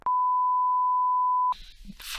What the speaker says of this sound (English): it's beeped now